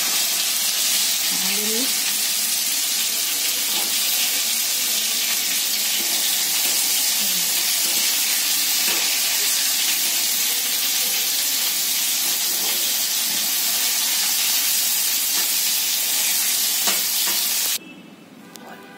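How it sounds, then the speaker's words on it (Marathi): Rani fish sizzle steadily in hot oil in a frying pan, a loud continuous crackling hiss with occasional stirring scrapes, lasting about eighteen seconds before cutting off abruptly. "राणी मासे तळून झाले बघा, हे फ्राय केले"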